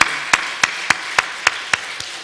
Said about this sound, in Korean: 하나님 앞에 감사와 영광의 박수 한번 더 돌리겠습니다